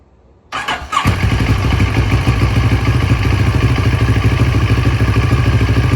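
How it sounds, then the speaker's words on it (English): A CFMOTO 650 ADVentura motorcycle engine cranks briefly and fires up after a moment of quiet, then settles into a steady, loud, close idle with a fast, even pulse. "let's go ahead and start the bike up"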